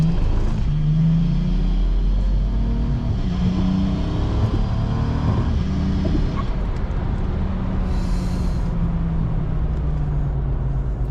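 BMW N54 car fitted with a swapped DCT gearbox accelerating, a steady loud engine rumble and drivetrain drone heard from inside the cabin, continuous for the whole stretch with no talk.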